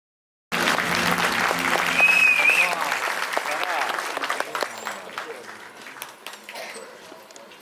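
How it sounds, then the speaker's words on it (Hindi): Audience applause at a Hindi film trailer launch event bursts in sharply and stays loud for several seconds before gradually thinning and fading. "दोनों बार उतनी ही तालियां बजी हैं सर।"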